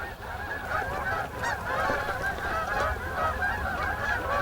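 A flock of Canada geese honks continuously at moderate distance, many overlapping calls forming a steady chorus.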